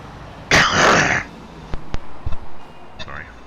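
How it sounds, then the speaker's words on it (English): A driver's cough and throat clearing during a long highway drive, one broad harsh burst followed by several shorter, softer clears and coughs, close and loud over low steady background. "Coughing."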